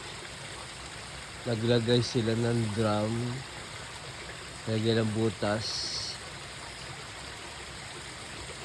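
Mountain spring water runs steadily from a drum through a hose, a constant rushing hiss heard throughout, with someone talking over it in two short stretches.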